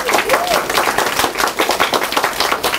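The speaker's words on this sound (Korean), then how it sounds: "박수 안 칩니까?" Audience at a wealth-mindset lecture breaks into clapping, a loud, busy patter of many hands with sharp individual claps standing out, lasting throughout with some voices mixed in.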